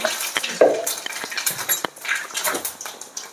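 Mustard seeds, cumin and fennel sizzling and popping in hot oil in a pan, a close, steady crackle with small pops and spatters, mixed with light stirring and utensil scrapes.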